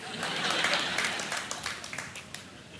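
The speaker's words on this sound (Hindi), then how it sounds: "पहली बार सुना कि हूटर पर ताली बज गई है।" Studio audience applause on a television quiz game show, a brief burst of clapping that starts full and then thins out into scattered claps.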